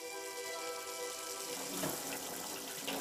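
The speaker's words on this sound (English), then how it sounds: "this water that's coming through from the tap" Water runs steadily from a kitchen tap into the sink during washing up: a continuous, even rush of splashing that stays at a moderate level throughout.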